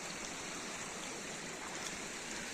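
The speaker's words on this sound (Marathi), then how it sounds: "पाऊस पडून चांगले झरे झालेत" A stream running after the first monsoon rain in a Konkan village: a steady, close wash of flowing water with no breaks, loud and even across the whole stretch, with no voices.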